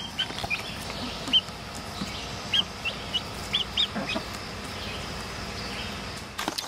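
Soft, scattered clucks from hens and 8-week-old chicks come at irregular intervals over a steady low background hum, fairly quiet and somewhat distant.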